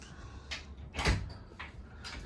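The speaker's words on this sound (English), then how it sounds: "so these doors fold all the way back" Several clattering knocks and rattles of folding door panels on a Jeanneau NC37 motorboat being pushed back, one louder bang in the middle, close by with no talking.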